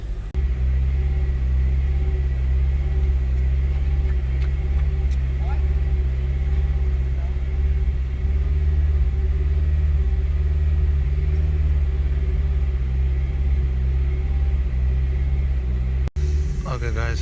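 Car engine held near 2000 rpm during an idle relearn, a steady loud low drone that never quite settles, with faint talk over it and a brief knock near the end.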